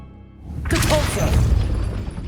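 A magical Depulso force-push spell strikes in Hogwarts Legacy, a sudden whooshing burst followed by a crashing, rumbling impact that lingers over faint background sounds.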